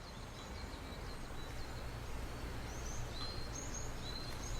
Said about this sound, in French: Nous entendons des oiseaux chanter.